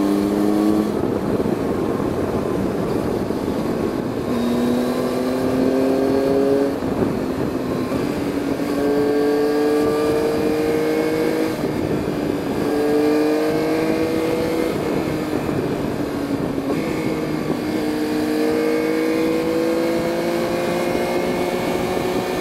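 A Yamaha Tracer 9 GT motorcycle engine revs loudly and close by on a highway, rising to about 7000 rpm and falling in repeated surges as the throttle is opened and eased off.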